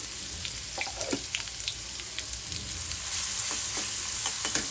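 Masala paste sizzles in hot oil in a pan, a steady crackling fry with soft clinks of stirring, close and moderately quiet, with no talk.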